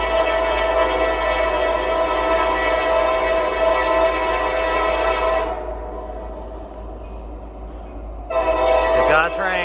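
Norfolk Southern H95 freight train rolls past close and loud with an SC40E locomotive leading, a steady heavy rumble carrying for several seconds, then the noise drops before a sharp horn blast bursts in near the end.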